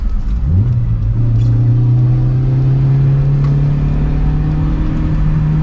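A Toyota twin cam car engine revs up sharply, then holds a steady high-pitched drone at high RPM, loud and close, with no talking.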